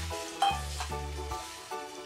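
Spices fry in ghee for khatte baingan, a soft steady sizzle with a few brief stirring knocks and scrapes, close and fairly quiet, and nobody speaking.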